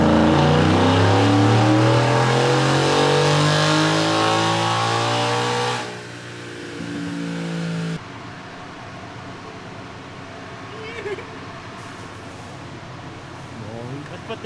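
Turbocharged 2021 Ford F-150 engine revving during baseline testing, climbing loudly and steadily through the revs before cutting off abruptly, then idling low with faint background noise.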